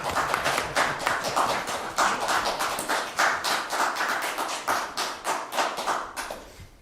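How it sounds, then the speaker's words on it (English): Applause from an audience at a city council meeting, a dense patter of many hands clapping steadily for several seconds before gradually thinning out at the end, with no talking over it. "the first applause I've ever had"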